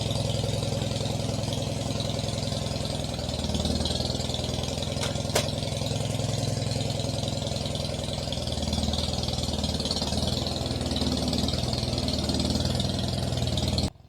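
A tractor engine idles steadily and close by, with a continuous low chugging rumble, a brief click partway through, and the engine cutting off at the very end.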